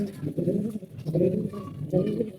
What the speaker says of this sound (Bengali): মাদিগুলা প্রত্যেকটা কবুতর আমরা গুছিয়ে দিয়ে দিছি